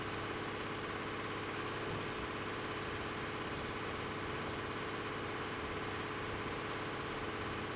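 A Kamaz Turbo truck engine drones in the Spin Tires game, a steady low mechanical rumble at constant pitch and level, continuous with no talking.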